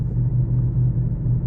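Low, steady droning rumble inside a car cabin fitted with a Calimer Stage 3 MT82 manual transmission modification, a constant close hum with slight pulsing and no voices.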